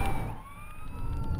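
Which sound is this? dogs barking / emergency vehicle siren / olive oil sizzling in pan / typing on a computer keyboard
emergency vehicle siren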